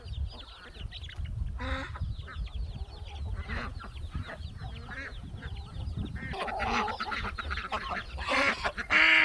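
Chicks clucking and peeping while they eat fresh greens in a converted rabbit cage; the busy, overlapping calls run steadily throughout and grow louder near the end, with no talking.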